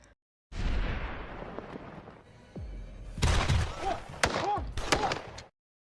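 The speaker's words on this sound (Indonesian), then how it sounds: "Setelah terjadi adu tembak" A gunfight with explosions in an action film: a series of loud booming blasts and sharp impacts, with a falling whoosh and crackling debris in between.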